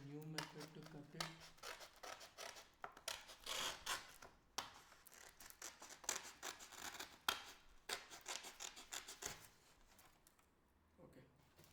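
Material for a model rocket is cut by hand, with repeated crisp snipping and rubbing strokes in a steady irregular rhythm, close and fairly quiet, after a brief low hum at the start.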